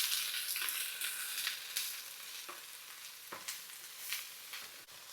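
Onion and mushrooms fry in a hot pan with a steady close-up sizzle, broken by a few scraping stirs of a utensil. No one speaks.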